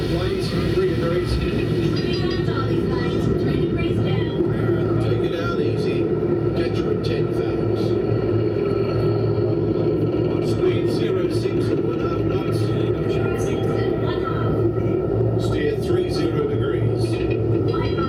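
Finding Nemo submarine ride dive: a steady loud mechanical rumble and hum fills the cabin as the submarine goes down, with crew voices talking over it throughout.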